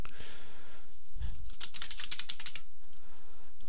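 Keys clatter on a computer keyboard in quick close taps, with a heavier keystroke like Enter among them, clear and without speech.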